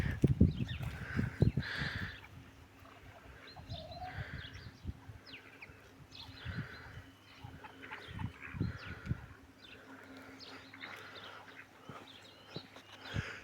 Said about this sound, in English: these ducks will let you get rather close to them